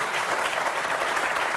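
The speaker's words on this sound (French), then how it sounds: "On va dire que c'est rare les applaudissements dans cette émission-là" A studio audience on a French political talk show breaks into applause, a brief, dense and even wash of clapping heard on its own without voices.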